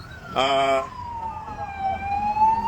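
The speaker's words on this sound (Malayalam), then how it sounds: "ആംബുലൻസ് എന്തായാലും എത്തിയിട്ടുണ്ട്" An ambulance siren with a steady, slowly wavering tone sounds throughout, fairly close, at a highway accident scene, over traffic noise and a brief loud horn-like blast near the start.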